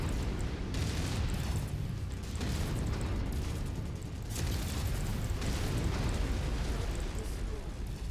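Burst-fire weapons and explosions from battling mechs in MechWarrior 5 Mercenaries, loud dense rumbling booms and blasts that come in surges with brief lulls, filling the whole stretch.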